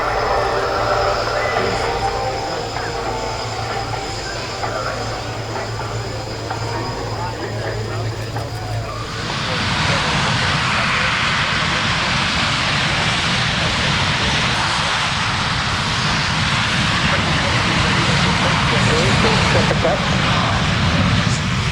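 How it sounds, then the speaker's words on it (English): Two RAF SEPECAT Jaguar jets taxi on a runway at an airshow, a steady engine roar that swells markedly louder and broader partway through and stays close and sustained, with speech over the sound. "the second of the two Jaguars. Taxiing down the runway now."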